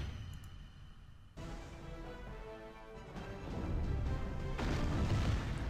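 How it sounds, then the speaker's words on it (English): A big special-attack explosion in the mobile game Monster Super League bursts in abruptly as a loud, broadband blast, then keeps swelling into a sustained roaring rumble that grows louder toward the end, with no talk over it. "So the special's pretty cool. That big giant explosion."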